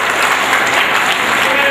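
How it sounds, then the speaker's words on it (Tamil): Crowd applause at an Amman temple festival in Tamil Nadu, a loud, dense, continuous clapping that sounds close and carries on without a break. "கரகோஷம் எழுப்புகள்"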